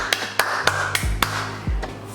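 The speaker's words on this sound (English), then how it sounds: "I gotta give myself a round of applause" One person clapping hands alone, about six sharp, separate claps in an uneven rhythm, close by and fairly quiet, with low thumps between them.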